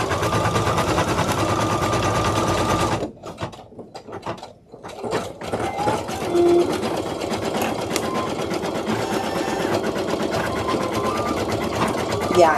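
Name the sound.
embroidery machine stitching a felt mask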